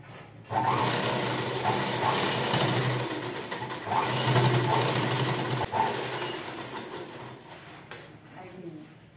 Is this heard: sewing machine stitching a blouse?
yes